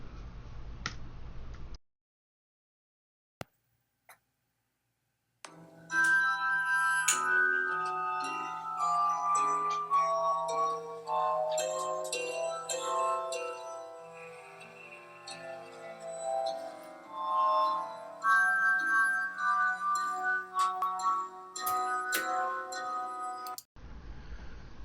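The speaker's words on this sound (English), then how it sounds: "as you listen to the harmonica" A glass harmonica of rotating glass bowls plays sustained, ringing tones that shift in pitch through a slow melody, loud and close, after a brief silent gap with a few clicks.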